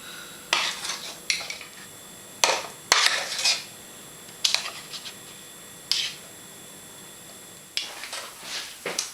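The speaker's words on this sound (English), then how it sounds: "all I'm going to do is spoon the mixture in till it's about halfway full" Chocolate cupcake batter spooned into cupcake cases, a series of sharp spoon taps and scrapes against a bowl arriving in irregular bursts about every second or two, close and clear with no talking.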